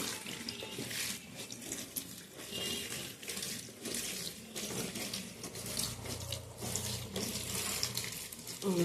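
Fenugreek greens are washed in a sink under a running tap, with steady splashing water and rustling of wet leaves at close range, quiet and without talking.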